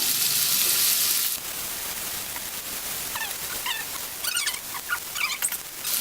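Onions and green chillies sautéing in a pan for potato biryani. A loud hiss at the start settles into a softer sizzle, broken by quick crackles and light utensil scrapes near the end.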